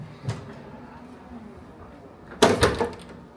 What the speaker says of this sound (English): Just gonna shut this door.